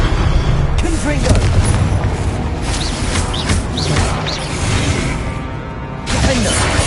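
Fire-spell blasts from the video game Hogwarts Legacy: dense, booming bursts of magic combat crowd the mix, with whooshes and impacts layered over one another, close and loud throughout, with a brief dip near the end before another blast.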